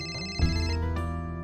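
A phone ringtone for an incoming call plays a short melodic tune of bright tones, clear and fairly loud against a quiet indoor background.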